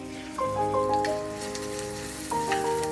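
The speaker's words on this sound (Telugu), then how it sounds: "ఇప్పుడు ఒక మూకుడు తీసుకొని 4 టేబుల్ స్పూన్ ఆయిల్ పోసుకొని ఈ ఆనియన్స్ వేసేయాలి" Sliced onions frying in about four tablespoons of oil in a deep pan, a soft, steady crackling sizzle with faint scattered pops, fairly quiet and with no voices.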